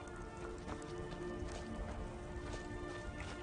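A horse gallops in The Elder Scrolls V: Skyrim with quick, steady clip-clopping hoofbeats, a continuous rhythmic thudding at moderate loudness, like a video game sound effect.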